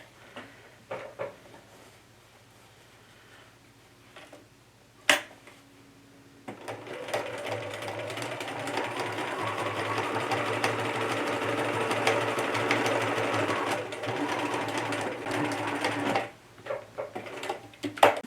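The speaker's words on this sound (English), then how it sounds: "So I'm about to stitch the edge stitching on the gusset." A sewing machine edge stitches across the top of a fabric bag gusset, running in a steady continuous whir for about ten seconds after some quieter handling and a sharp click, then stopping, with fabric shuffling at the end.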